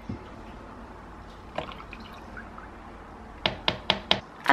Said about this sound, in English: So that's my 110 mils of coconut milk going in.